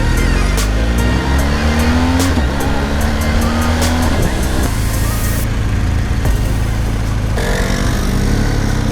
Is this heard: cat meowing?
no